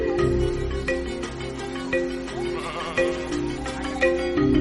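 Sheep out on an open Romanian pasture, grazed extensively, bleat over and over in overlapping calls, with several animals at moderate distance forming a steady chorus.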